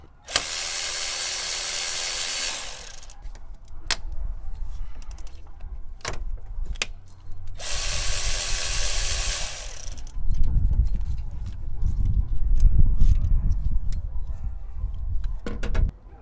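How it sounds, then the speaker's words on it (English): A ratchet removes the timing belt tensioner and pulley on a Mitsubishi 3000GT VR4 engine. Two long bursts of harsh whirring come with scattered metallic clicks and clanks, and low mechanical rumbling follows, close by. "Next step, I'm going to be taking off this tensioner, pulley, and a tensioner."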